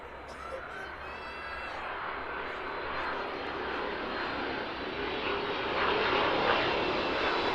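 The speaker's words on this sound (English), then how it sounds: "that's 767 making its way down towards us now" A Boeing 767 cargo jet on final approach at East Midlands Airport gives a steady, broad jet roar that slowly builds as it descends. Someone talks over it, and birds call faintly early on.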